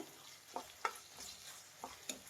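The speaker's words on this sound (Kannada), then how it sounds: "ಇದು ಹಸಿ ವಾಸನೆ ಹೋಗೋವರೆಗೂ ಶುಂಠಿ ಬೆಳ್ಳುಳ್ಳಿ ಪೇಸ್ಟ್ ಫ್ರೈ ಮಾಡಬೇಕು" Ginger garlic paste frying in a pan while being stirred, with a faint, steady sizzle and a few sharp scraping clicks of a spoon against the pan at irregular intervals.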